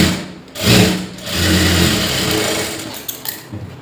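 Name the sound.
sewing machine stitching a lined blouse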